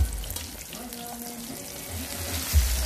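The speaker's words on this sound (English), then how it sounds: "so I'm gonna be frying it now" Snapper and butterfish frying in hot oil outdoors, a soft continuous sizzle and bubbling heard close up, with a faint low hum behind it and a brief bump of handling noise near the end.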